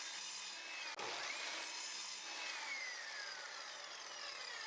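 Plywood edges cut at an angle with a saw, a steady close rasping hum after a sharp knock near the start, continuing evenly throughout with no talking.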